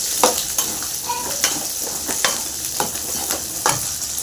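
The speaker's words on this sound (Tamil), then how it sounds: "சின்ன வெங்காயம் கூட கருவேப்பிலை இது நல்லா வதங்கணும்." Shallots and curry leaves fry in a pan as a bright, steady sizzle runs throughout, broken by regular spoon strokes stirring them close up.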